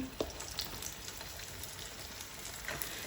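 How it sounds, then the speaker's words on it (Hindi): Radish and semolina pieces frying in hot oil over a low flame, giving a steady, close crackling sizzle with scattered small pops throughout and no voices. "नीचे से ऑयल गरम करके आपने आंच हल्की कर देनी है, क्योंकि इनको हमने पकाना है अंदर तक।"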